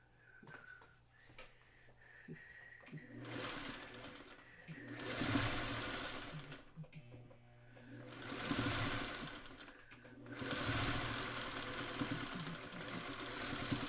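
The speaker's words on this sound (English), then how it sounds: "now we just sew it the other way" A sewing machine stitches quilt fabric pieces in several bursts of steady, fast whirring, close and moderately loud, with short pauses for repositioning the fabric between runs.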